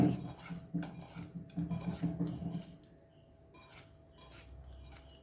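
A spoon scrapes and clinks against a bowl while ingredients are mixed with salt for zero-oil Goan tarle sukhe. A run of close, busy clatter gives way to quieter, sparse stirring.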